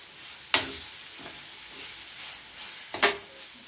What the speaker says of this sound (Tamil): இதில் கொஞ்சம் உப்பு போட்டு வதக்கிடலாம்.